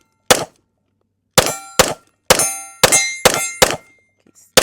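Pistol rounds striking a moving steel target at a shooting range, six loud metallic clangs with ringing decay, spaced unevenly, close and alone without talk.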